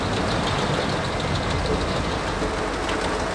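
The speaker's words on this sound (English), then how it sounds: "The 790 horsepower chipper is used here to process red oak timber." A 790 horsepower wood chipper chews through red oak timber at a forestry site, making a dense, continuous roaring grind with an even engine drone and no pauses.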